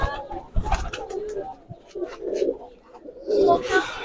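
Biscuit ablak pigeons coo on a farm of racing pigeons, soft repeated calls mixed with scattered chirps and a louder burst near the end, close by.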